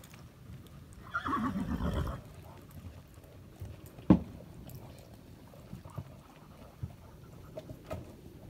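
A mule canters with faint, soft hoof thuds scattered across the clip and one sharper knock near the middle, heard at a distance beneath quiet background noise and a brief vocal sound.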